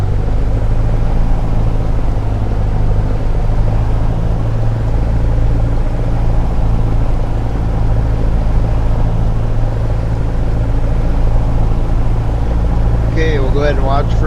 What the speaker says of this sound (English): We're going to throttle this thing up to 1700 RPMs and drop our magnetos and check those out.